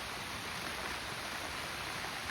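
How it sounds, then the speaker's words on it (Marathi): Steady rain falling, a constant dense hiss with no other sounds or voices. "हा पाऊस पण जात नाही"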